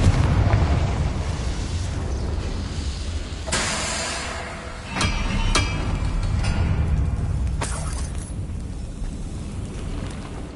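Blasting spell explosions in the video game Hogwarts Legacy, with several sharp booming bursts over a rumbling, crackling game soundscape and no talk.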